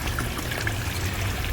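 Small solar-powered waterfall in a garden pond trickling and splashing steadily, a continuous close wash of falling water with no voices.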